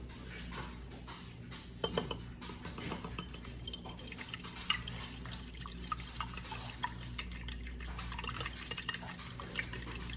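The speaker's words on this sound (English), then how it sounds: "I'm literally just whisking the eggs right now" Two eggs are beaten in a bowl, giving a quiet, close run of rapid tapping clinks against the bowl with occasional sharper knocks over a low room hum.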